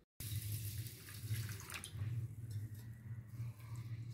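Water runs steadily from a tap onto soaking rice, 1.5 glasses of it, for egg biryani, a continuous close splashing rush lasting several seconds with no talk.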